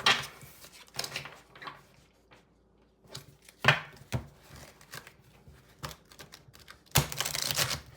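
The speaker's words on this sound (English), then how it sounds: "Oof, I had a hard time shuffling that." Tarot cards being shuffled by hand come as irregular bursts of crisp, papery riffling and tapping, separated by quiet gaps, fairly close and with no voices.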